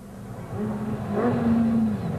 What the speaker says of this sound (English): The golf sounds distinctly sick